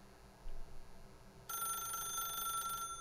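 A telephone in The Stanley Parable video game rings with a bright electronic trill that starts partway through and holds steadily for over a second against a quiet, faintly humming room.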